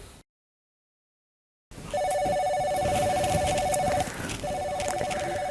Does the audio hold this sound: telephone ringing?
yes